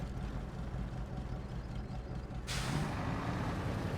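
A truck handbrake in Expeditioners: A MudRunner Game lets go with a sudden hissing burst of air over a steady engine rumble, the hiss rising partway through and continuing to the end.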